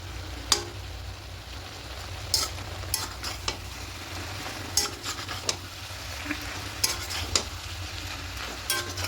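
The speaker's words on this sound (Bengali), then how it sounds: "সমস্ত সবজিগুলো শাকের সঙ্গে একটু ভালো করে মিশিয়ে নেব" Vegetables being stirred into cooked spinach in a pan for a spinach ghonto with hilsa fish head, with a steady low sizzle and scattered sharp spoon scrapes and clinks against the pan, moderately loud and close.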